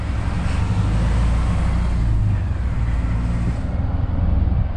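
A class 2 HGV lorry in England pulls away, its diesel engine a steady low rumble with road noise, heard from inside the cab with no talking.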